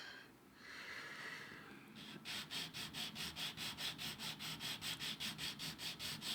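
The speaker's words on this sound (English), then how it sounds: "So all I'm doing is just on some sanding sticks here." A cast model car part for a 1/12 Maserati 250F Streamliner kit is worked on sanding sticks, first with a couple of soft strokes, then a steady run of quick, evenly spaced rasping strokes, close and fairly quiet.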